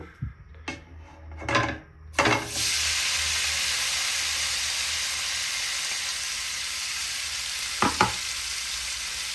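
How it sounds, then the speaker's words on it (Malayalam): Marinated sausage dropped into hot coconut oil in a pan: a few knocks and clatters, then a loud sudden burst of sizzling that settles into a steady close hiss, with a couple of utensil taps near the end. "ആ പാനിലേക്ക് നമ്മൾ മാഗ്നേറ്റ് ചെയ്ത് വെച്ച സോസേജ് വറുത്തെടുക്കുന്നതിന് ആവശ്യമായിട്ടുള്ള വെളിച്ചെണ്ണയാണ് ഞാൻ ഉപയോഗിക്കുന്നത്"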